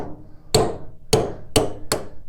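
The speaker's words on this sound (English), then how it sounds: "which doesn't give me much room to hold the punch to swing it with a hammer" A hammer strikes a punch four times to drive out a drive shaft pin on a Cub Cadet 149 garden tractor during a transmission front pump repair, sharp close metallic blows spaced about half a second apart.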